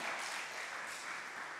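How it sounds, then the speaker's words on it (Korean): A church congregation at an air force base chapel service gives a brief round of applause to welcome newcomers, a soft, steady patter of many hands heard from a distance. "박수로 환영하고 축복합니다"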